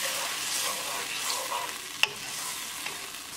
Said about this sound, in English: Cooking spices along with tadka for 1 minute